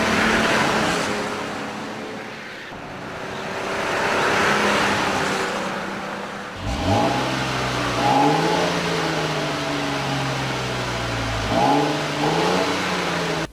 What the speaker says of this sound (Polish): dźwięk silnika jest naprawdę miły dla ucha każdego miłośnika jednostek w układzie V